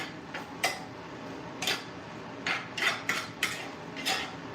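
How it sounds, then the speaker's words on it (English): Utensil stirring lemon peppercorn steak stir fry in a pan, heard as a few sharp, close scraping clicks and taps at irregular intervals over a low, steady background hiss. "Let's do a little stir."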